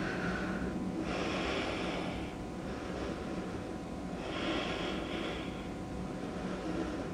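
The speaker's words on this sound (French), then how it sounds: "Je prends ici quelques respirations." Slow yoga breaths drawn in and let out through the nose, two or three long airy swells about a second or two each, close and soft over a steady low background hum.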